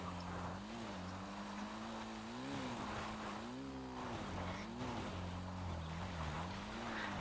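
Car engine in GTA Online driven up a cliff on Cayo Perico island, a steady droning motor whose pitch rises and falls as the throttle shifts, close and continuous throughout.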